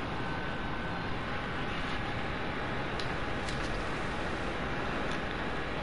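An aircraft takes off in a video game amid turbulence, its engine a loud, steady, broadband roar that holds constant throughout, with faint ticking sounds at times.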